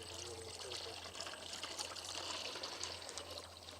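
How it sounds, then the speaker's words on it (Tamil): Cooking oil is poured into a dry, heated kadai for a fish bajji, a continuous soft trickling pour lasting a few seconds, quiet and close over a low background hum. "எண்ணெய் சேர்த்துக்கலாம்."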